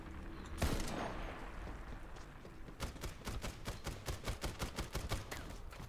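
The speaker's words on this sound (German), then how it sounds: "Das ist eine Sniper-Minigun" A single loud blast, then a fast, steady burst of rapid synthetic gunfire from a minigun in Borderlands 3, with no talking.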